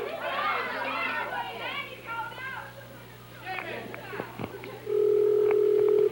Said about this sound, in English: it's ringing right now, Jimmy.